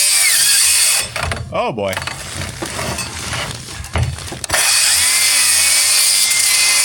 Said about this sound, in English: I gotta cut this piece of OSB so that this one will fit.